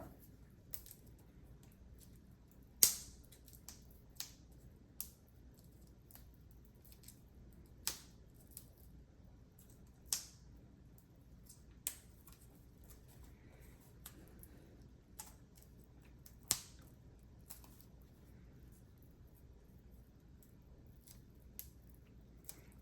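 Board game plastic wrapping being worked open up close, a scattered series of sharp crinkling snaps and ticks over about twenty seconds, faint and sparse against quiet background.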